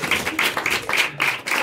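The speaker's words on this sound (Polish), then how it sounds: "Dajcie mu wielkie brawa" Pub patrons at an open-mic comedy night clap for a comedian as he is introduced, bursts of hand claps rising and falling in a rapid rhythm, close and fairly loud, with no speech.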